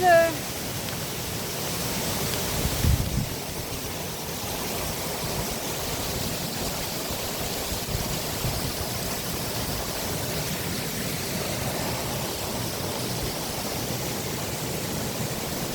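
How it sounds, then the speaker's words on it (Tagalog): Continuous broadband rushing of a river flowing nearby, steady and unbroken, with a brief bump in the first few seconds. "Ayan yung ilog."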